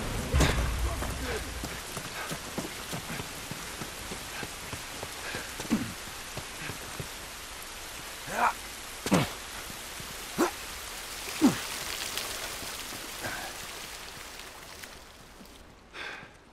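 Steady rainfall in The Last of Us Remastered, a constant hiss of drops hitting surfaces throughout, with occasional sharper taps and thumps rising above the wash.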